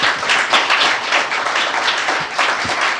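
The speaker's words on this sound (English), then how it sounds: "Let's give a round of applause to these two gentlemen." A room full of people gives a dense, steady round of applause at a District 6 city council event, with sustained close clapping throughout and no speech over it.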